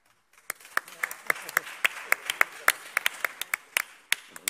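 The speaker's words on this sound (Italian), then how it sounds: "Un doppio applauso fa sempre bene" A small audience at an award ceremony claps in sparse, distinct claps that build into brief scattered applause, heard close and fairly faint.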